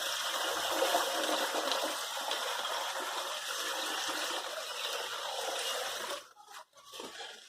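Water and wet gravelly material pour into a gold prospecting nugget bucket as a steady, loud rushing gush that cuts off sharply near the end, followed by brief splashes and trickles.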